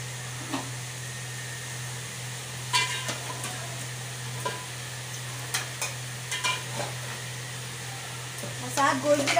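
Yakhni broth goes into a pot with beef for pulao, then a steady low bubbling hum with scattered scraping and clanking stirs that grow busier toward the end.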